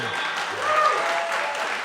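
A brief burst of audience applause at a panel discussion on California's clean energy transition; a soft, even patter of clapping that rises slightly midway and then holds.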